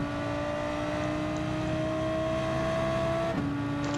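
Race cars, including a Porsche, drive in Gran Turismo 7, engines holding a steady whine that drops sharply on a gear shift near the end, loud and close with no talk.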